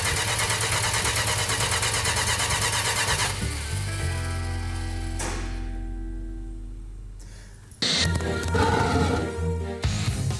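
A 1968 Dodge Charger R/T 440 with an automatic transmission cranks steadily without firing, the starter churning loud and close. It winds down, then another burst of cranking follows.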